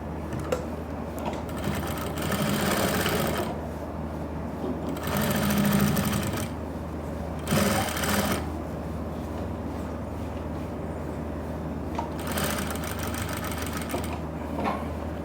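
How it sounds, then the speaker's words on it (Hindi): Sewing machine stitching the belt onto a pair of pants, a steady rapid mechanical whir in several bursts separated by quieter pauses, close and clear with no talk. "सिलाई को मैंने कंटिन्यू कर लेना है।"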